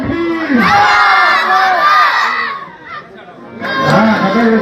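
Loud rally crowd shouting a rhythmic chant-and-response of the Nara-e-Takbeer slogan at a political stage event, voices swelling in two bursts with a brief dip between.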